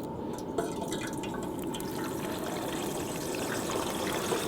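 A turkey being eased slowly into hot frying oil at about 360 degrees, giving a steady crackling, spattering sizzle with scattered drips and pops, moderately loud and without talk.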